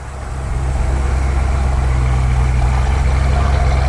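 A 1966 Mustang GT engine idles steadily, with a deep, continuous low rumble close by that swells slightly at the start and then holds even throughout, with no talking.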